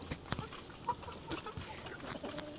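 Chickens kept in the Philippines cluck in scattered short bursts, faint against a steady high insect-like hiss and outdoor background.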